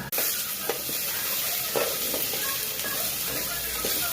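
Goat leg curry in a pan is stirred after turmeric is added: a constant close frying sizzle runs throughout, with soft scraping strokes of the spoon passing through it at irregular intervals.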